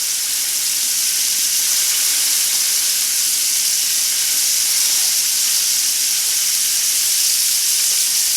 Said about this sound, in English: Bottom of the pan, I'm going with a little bit of butter.